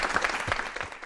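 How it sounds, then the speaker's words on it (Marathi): Indoor audience breaking into vigorous applause at an education talk, dense continuous clapping from many hands, close and loud, with no speech. "या विचारासाठी एकदा जोरदार टाळ्या झाल्या पाहिजे."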